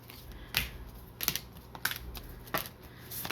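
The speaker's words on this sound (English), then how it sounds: "then we'll start the shuffling" Tarot cards are shuffled at a table, giving a series of sharp, close card snaps and riffles at irregular intervals over quiet background.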